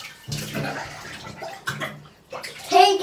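Bath water splashing and sloshing in a bathtub while a small boy is washed, with a voice and other voices mixed in and a brighter burst of splashing near the end.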